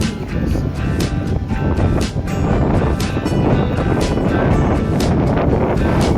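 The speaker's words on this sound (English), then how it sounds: "So cold. It's so much windy." Strong wind roars steadily and loudly into the microphone, buffeting in continuous gusts with low rumbling and occasional sharper flutters.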